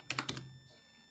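A few quick taps on a computer keyboard while typing names for radio channels in GMRS radio programming software, a short cluster of clicks close up, then fading to quiet.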